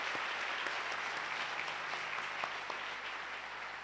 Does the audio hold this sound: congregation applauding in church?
yes